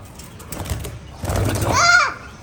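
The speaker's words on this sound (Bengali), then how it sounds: "খুব লাফায় এবং কোয়েল পাখিগুলো খুব ডাকিও করে" Quails call in short, shrill chirping bursts near by on a farm, with brief voices and some rustling.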